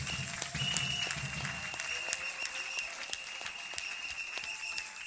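A church congregation claps in a steady stream of applause during a worship service, with dense hand claps layered over sustained tones and a brief low voice or rumble at the start, continuing evenly throughout.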